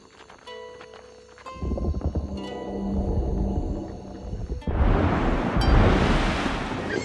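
Ocean waves in the Reus 2 game, a building wash of surf that rises into a loud, rushing roar after a few scattered tonal game sounds at the start.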